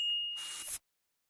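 A single bright notification ding for a bell icon rings clearly, then fades away, followed by a short soft swoosh and then silence.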